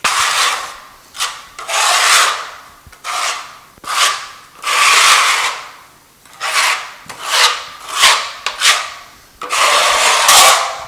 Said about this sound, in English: I can start spreading out some glue